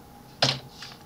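A single brief keystroke burst on a computer keyboard while entering a Word 2019 formula, a sharp clack near the mic and then a softer tap, with no talking.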